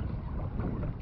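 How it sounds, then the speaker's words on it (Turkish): A short burst of heavy wind rumble roars against the microphone at the Mollaköy ponds in Sapanca, loud and steady. "Hava rüzgarlı açık ama bayağı sağlam rüzgar var."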